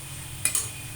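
Spiced prawns are stirred in a pan, giving two quick scrapes over a steady, faint sizzling hiss.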